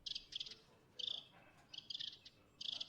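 Chirping bird calls, placed as spatial 3D sound in a VR audio setup, come in short repeated bursts of a few high notes each with brief gaps, quiet and alone.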